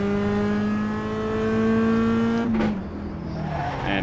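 A Mazda MX-5 Cup race car at Okayama circuit pulls hard with a loud, steady engine note, which drops off sharply near the end as the throttle eases.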